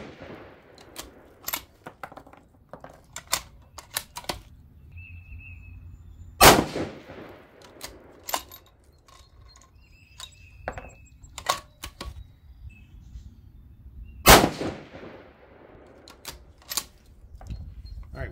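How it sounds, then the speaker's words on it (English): Rifle shots from a 6mm ARC firing 105-grain BTHP loads, a few loud, sharp cracks spaced several seconds apart, with quieter clicks and handling noises between them. "We are shooting these relatively quick too, because we're not taking a look at the brass or anything like that."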